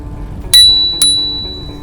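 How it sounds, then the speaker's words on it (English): Two quick bright rings of a bicycle bell on a Brompton bike along a canal path, sharp and close, each ring fading out, over faint outdoor background. "you've got a bell, so people can kind of hear you when you're coming past"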